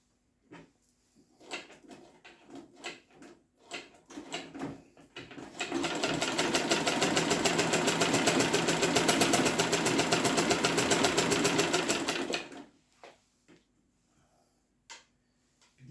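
A Zetina manual treadle table sewing machine clicks through a few starts, then stitches steadily for about seven seconds in a fast, even mechanical rattle before slowing to scattered ticks.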